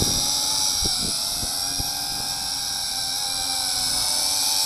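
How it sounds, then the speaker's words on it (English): A WLToys Q919-A FPV quadcopter drone flies nearby with a steady, high-pitched whining buzz of its motors, holding a constant tone throughout, with a few faint bumps and clicks underneath. "Neat quadcopter."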